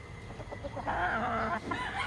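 Roosters cluck in short, quiet bursts of rising and falling calls, close by and fairly faint, with no talk over them.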